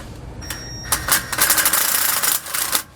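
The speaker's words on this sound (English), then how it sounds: "So I'm going to go ahead and pull the washer out." Washer and bolt being pulled out of a Roadmaster rear anti-sway bar mount on a 2018 Winnebago, a quick burst of close metallic rattles, clicks and scraping, fairly loud and without speech.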